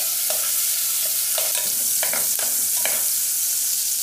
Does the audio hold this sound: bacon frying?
yes